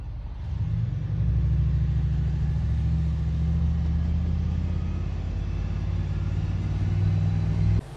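A steady low droning hum of radiator cooling fans in an LS-swapped car's engine bay, constant and fairly loud, running without pause before cutting off at the very end.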